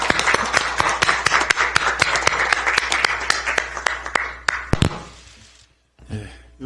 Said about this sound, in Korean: 여러분 힘찬 박수로 맞아주십시오